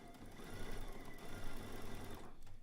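Sewing machine stitching a quilt seam straight over silicone-tipped pins, a quiet, fast, even motor whir with a dense needle chatter, heard close and alone before it trails off at the end.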